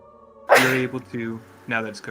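A single sharp human sneeze bursts out loudly and close, followed by brief speech.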